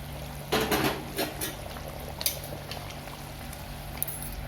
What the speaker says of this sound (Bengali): ঝোলটা আরেকটু ফুটতে দিয়েছি তারপরে দিয়ে দিয়েছি ভেজে রাখা মাছগুলো